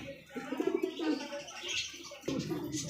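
Several pigeons coo close by in low, throaty bursts, with a few chirps mixed in and a soft rustle of movement.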